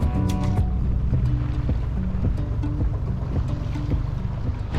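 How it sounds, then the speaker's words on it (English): A powerful outboard-type boat engine drones steadily as the craft runs across choppy water among the Ragged Islands, with wind and hull slap mixed in, loud and continuous throughout. "Glad we have a powerful engine."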